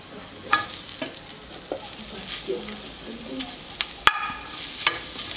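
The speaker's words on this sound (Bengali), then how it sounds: "আর এবারে আমি কড়াইয়ের মধ্যে দিয়ে দিচ্ছি আমি যে সিমগুলো সিদ্ধ করে রেখেছিলাম সেই সিদ্ধ করা সিমগুলো সিমগুলো আমি একটু ভেজে নিব" Boiled hyacinth beans fry and get stirred in a kadai, giving a soft continuous sizzle with scattered spatula scrapes and clacks, including a sharp knock near the end.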